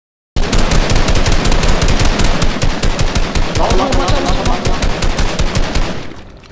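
Rapid automatic gunfire from the Fortnite video game, a dense, continuous burst of shots rattling loudly for about six seconds before cutting off.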